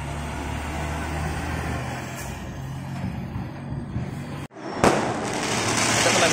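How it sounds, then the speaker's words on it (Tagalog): Loud crackling bursts of fireworks at a town fiesta in Pampanga, Philippines, over steady traffic rumble, with one sharp bang partway through after a brief drop in sound. "yung kanilang mga fireworks"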